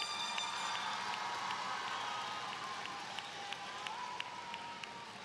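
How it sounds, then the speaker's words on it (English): Audience applause for parents during a high school graduation ceremony, a dense, steady wash of clapping from a large crowd with occasional sharper claps standing out, sustained at even loudness throughout. "give them a big resounding round of applause right now"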